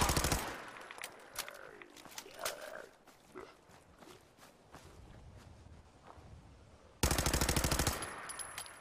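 Bursts of automatic gunfire from a weapon in Fallout 4, with rapid rhythmic shots early on and a loud sustained burst near the end, separated by quieter stretches of footsteps and scuffling.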